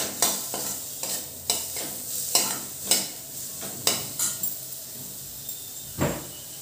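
Onion frying in a pan for a potato curry, browning toward reddish, with a constant bright sizzle and regular scraping stirs about every half second, close and fairly loud, without speech.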